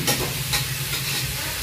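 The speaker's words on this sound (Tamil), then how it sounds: "நாங்கள் தக்காளிப்பழம் போட்டோம். சரியா இது கொஞ்சம் வதங்க." Tomatoes sautéing in a pan make a loud, close hiss and sizzle with a couple of brief stirring scrapes, ending on a sharp clatter.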